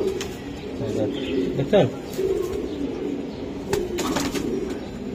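Red-eyed, high-flying racing pigeons coo softly in a low, rolling murmur close by, with faint chirps mixed in, while people talk over them.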